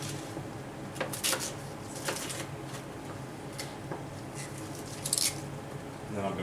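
Cabbage for ham and cabbage is cut with a knife, giving a string of crisp, close chopping and squishing crunches at irregular intervals with no talk.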